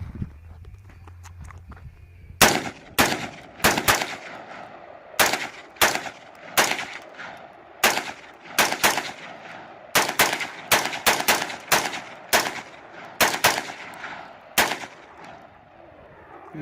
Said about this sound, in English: He's gonna dump 20 rounds downrange.